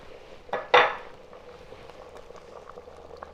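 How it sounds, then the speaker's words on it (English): A spoon gently stirring simmering Gujarati dal dhokli in a metal pot gives two quick clinks against the pot, followed by faint, soft bubbling. "be sure to very, very gently stir, because we want to make sure that they don't stick to the bottom"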